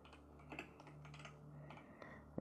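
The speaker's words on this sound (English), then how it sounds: "I'm just typing away on the other screen." Computer keyboard typing while building a coastline map in WorldPainter, a steady patter of quiet, close keystrokes over a low background hum, with no one speaking.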